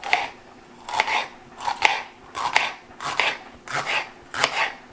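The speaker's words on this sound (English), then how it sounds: "we're gonna go ahead and cut them like this" A knife cuts through food for chicken chipotle pasta with a rhythmic series of about seven close, crisp slicing strokes, evenly spaced on a board with no talk.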